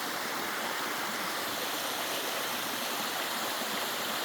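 A mountain stream in the Yonghyeon valley rushes in a continuous broad wash of water, steady and unbroken throughout, close and fairly loud, with no voices.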